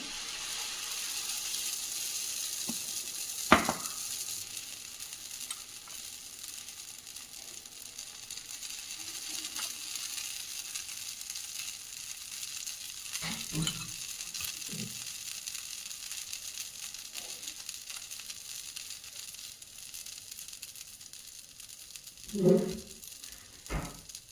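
Bread dosa batter fries on a pan with a faint, steady sizzle, broken by a few scattered clicks and soft utensil knocks.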